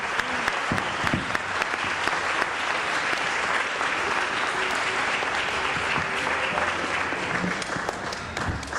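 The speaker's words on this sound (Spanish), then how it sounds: "Denle un fuerte aplauso al Señor" A church congregation gives the Lord a loud, steady round of applause, dense clapping that fills the room and holds without a break from start to finish.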